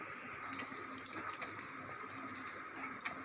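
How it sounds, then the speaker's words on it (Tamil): Water poured from a vessel into a pan of channa masala (chickpea curry) on the stove, a steady close splashing trickle lasting a few seconds with no talk over it. "கொஞ்சம் தண்ணி இதிலே ஊற்றிடுவோம்."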